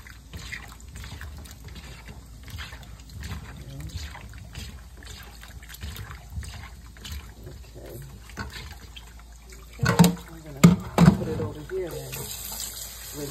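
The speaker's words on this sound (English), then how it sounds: "So I'll just put those into that vinegar and water" Cut pineapple pieces are put into a vinegar and water wash, giving quiet trickling and then a few short, louder splashes near the end, with a voice talking at times.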